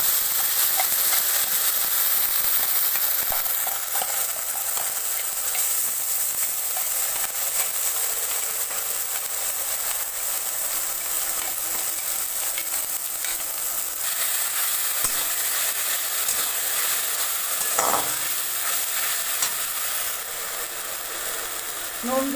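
Spice paste frying with tender baby corn in a pan, a steady close sizzle and crackle running throughout with occasional scraping stirs.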